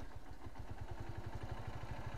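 A Honda Titan motorcycle that has just kick-started settles into an idle with a quick, even low putter, heard close.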